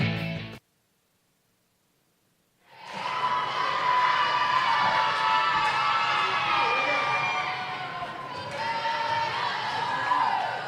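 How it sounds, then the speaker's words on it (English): A crowd in a high school gym roars at a girls' volleyball match between North Allegheny and Seneca Valley before the fourth set, with sustained cheering and shouts after a brief silence. "Crowd excited with anticipation as to how this 4th set will go down."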